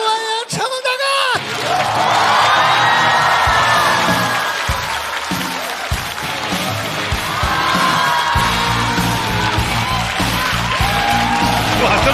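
A stand-up comedy audience erupts in loud cheering, whoops and applause as Jackie Chan is welcomed onstage, a dense roaring crowd swelling over several seconds with shouts standing out.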